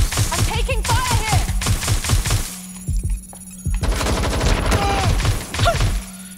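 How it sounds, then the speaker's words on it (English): Automatic gunfire in the video game Watch Dogs Legion, loud rapid bursts with a short pause in the middle, with a voice talking and exclaiming over the shots. "I'm taking fire here."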